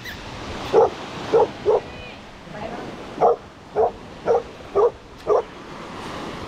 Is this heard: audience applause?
no